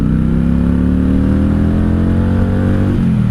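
Close, steady engine drone from a 1995 Honda Shadow VLX 600 (VT600C) V-twin motorcycle as the rider pulls away, revs climbing smoothly before a brief dip near the end as it shifts up a gear.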